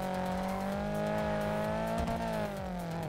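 A Şahin car driving in GTA 5, its engine droning steadily and close with a slight rise and fall in pitch, running continuously without a break.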